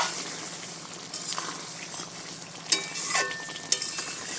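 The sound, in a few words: sour-spicy-sweet khaira fish curry boiling in pan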